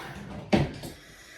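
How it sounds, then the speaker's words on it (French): A household drawer being handled to put an item away, with a single sharp knock followed by a softer short slide, close by in a quiet room. "je vais mettre ça de l'autre côté. Dans le tiroir là."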